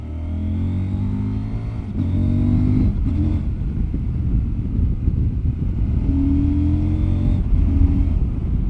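A CFMOTO 800 MT motorcycle accelerates up a hill, its engine droning loud and close with rising revs, brief gear-change dips and a steady throaty rumble throughout, no talking.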